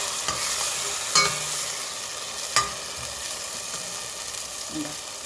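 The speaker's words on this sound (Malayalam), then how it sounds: "നന്നായി മാഷ് ചെയ്ത്" Mutton haleem is mashed and stirred in a pot, giving a steady sizzling hiss with a few sharp scrapes and knocks of the utensil against the pot.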